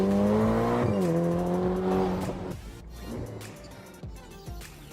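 A Ferrari Portofino engine revs up sharply on a downshift and then drops away. A brief tyre chirp and road rumble follow as the car settles.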